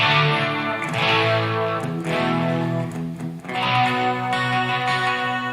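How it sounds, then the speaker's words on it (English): Electric guitar played through delay effects, with no reverb, so that repeats smear into a reverb-like wash; sustained chords ring and overlap loudly and continuously with a few changes, and no voice is heard. "There is no reverb on my chain. It's the delays."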